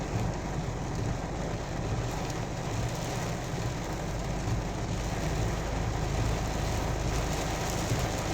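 Heavy rain pouring steadily during flooding in Jamaica, heard from inside a car on the road, a dense continuous roar of drops with no talking.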